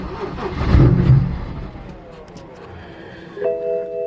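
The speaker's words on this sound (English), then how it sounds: "It has been a hot minute since I have started this car." A 750HP BMW 135i on E85 cranks over in the cold and catches, a loud burst of engine noise that sags, then picks up again into a steadier running tone.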